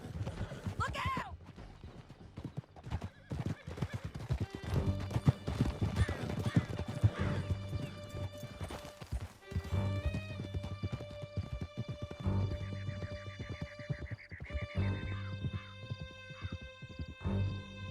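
Horses galloping in Red Dead Redemption, a steady clip-clop of hooves running under loud game music and shouted dialogue, with a horse whinnying near the start.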